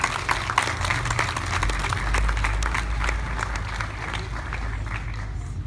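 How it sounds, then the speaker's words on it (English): A crowd applauds veterans at a Memorial Day parade in Princeton, with sustained outdoor clapping that holds steady for several seconds before thinning slightly toward the end. "Please join me in applauding them one more time."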